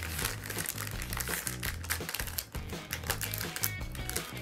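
Plastic bag from a Revell Rogue One Star Destroyer Snap-Tite model kit crinkles close up, a continuous busy crackle of handled plastic with no talking.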